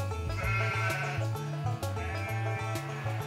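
Sheep bleat loudly and repeatedly, several overlapping wavering calls close by, no talking.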